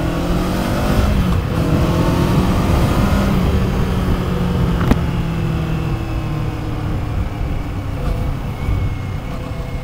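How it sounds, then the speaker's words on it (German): A 2024 Kawasaki Eliminator 500 motorcycle engine drones steadily at close range while riding, its pitch shifting slightly as it runs, with a constant rumbling exhaust note and no talking. "der Auspuff hört sich jetzt hier so vom Fahren und so nach nichts Besonderem an."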